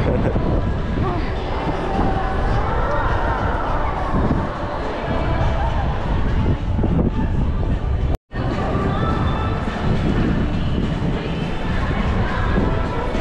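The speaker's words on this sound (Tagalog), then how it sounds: "Ang lakas ng hangin" Strong, cold autumn wind at Universal Studios Japan roars steadily in broadband gusts, buffeting close and loud throughout, with people's voices calling out over it and a brief dropout partway.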